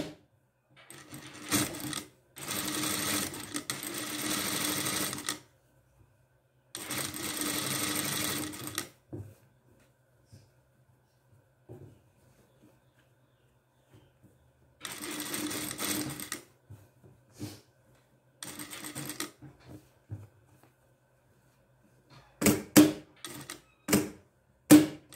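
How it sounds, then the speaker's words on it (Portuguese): A sewing machine topstitches a seam on a made-to-measure long dress, running in several rapid bursts of stitching separated by quiet pauses, close and clear, ending with short stop-start runs. "Aí agora eu vou rebater essa costura."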